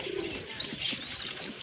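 Young pigeons in a nest box make soft, repeated cooing and thin chirping calls close by, several short calls in an irregular rhythm with no speech.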